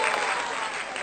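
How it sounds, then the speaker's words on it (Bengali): A studio audience claps for contestant Roni during a football-kicking game show, a brief, dense burst of applause that stays steady and fairly loud throughout. "জোরে হাততালি রনি।"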